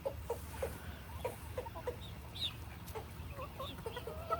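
Backyard chickens cluck in short, repeated calls at a moderate distance, a steady scatter of clucks over a quiet outdoor background with no talking.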